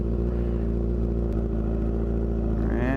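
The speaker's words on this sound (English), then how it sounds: "the exhaust is pretty loud, especially on a cold startup" A motorcycle fitted with a Toce exhaust runs loud and rough on a cold startup, a steady close-up engine drone that rises into a rev at the end.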